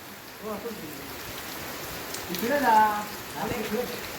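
Steady rain hisses down over an outdoor cricket match in the Konkan region, a constant wash of falling water with voices talking and calling over it.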